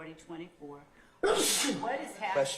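Someone sneezes once, sharp and fairly close, cutting into speech in a courtroom setting; talk continues right after.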